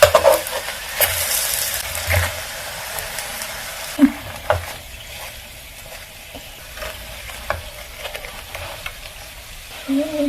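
Soya vegetable rolls fry in hot oil with a steady crackling sizzle, close by, broken by occasional scrapes and taps as they are turned and stood upright in the pan.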